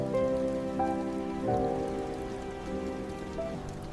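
Steady rain falls outside a restaurant at night, a continuous soft patter heard alone, with gentle melodic music drifting over it.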